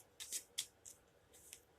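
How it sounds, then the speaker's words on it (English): Several quick papery riffling bursts of cards being shuffled, close by and fairly quiet, with short pauses between them and no talking. "Another shuffle."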